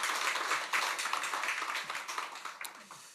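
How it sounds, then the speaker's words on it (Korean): A church congregation claps for the choir at a Sunday worship service, with a fairly quiet, steady patter of many hands that tapers slightly toward the end. "우리 성가대 다시 한번 경의의 박수 하겠습니다."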